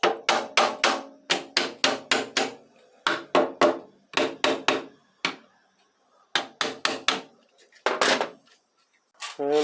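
Rapid bursts of hard tapping as a trans thermo cooler valve for a Ford Ranger 6R80 transmission is seated into place, loud close knocks in quick groups of three to five separated by short pauses.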